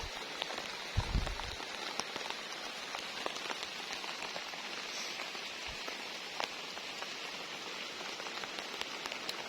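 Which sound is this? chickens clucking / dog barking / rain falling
rain falling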